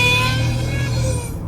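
A supercharged Ford F-150 V8 fitted with a Gen 6 Whipple 3-liter supercharger and a sound tube runs at quarter throttle, giving a steady close, loud engine drone for a brief moment before it trails off.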